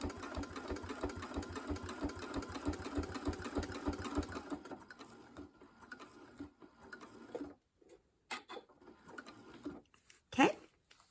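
A domestic sewing machine stitching quilt binding runs in a steady rapid rhythm for about four seconds, then stops, leaving quieter handling clicks and a brief sharp sound near the end.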